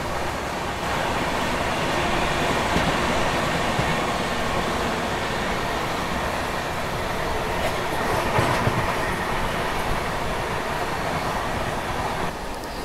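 The New Delhi–Ranchi Rajdhani Express runs fast through Shikohabad Junction, its steady loud rumble and clickety-clack of wheels on rails continuing without a break and with no voices.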